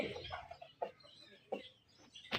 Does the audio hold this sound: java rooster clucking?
yes